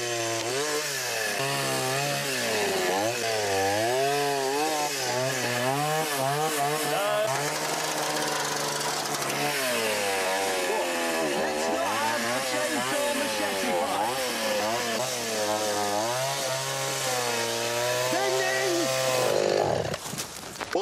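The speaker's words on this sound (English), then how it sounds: "That you should put the chainsaw in a bloody car and go." Chainsaw engine running loud and steady throughout, with rising and falling revs, while people talk over it; set during a rough off-road expedition through Bolivia.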